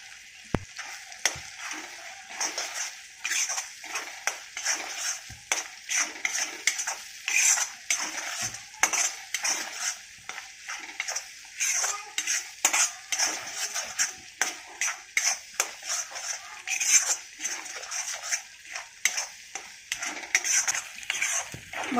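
Green masala is sautéed and stirred in a pan, with a sizzle under rhythmic scrapes and clinks of a metal spoon against the pan, close and repeated throughout.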